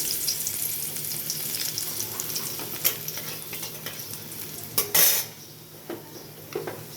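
Garlic hits hot oil in a pan where bata fish was just fried, a moderate close sizzle punctuated by sharp metallic clinks and scrapes of a utensil against the pan.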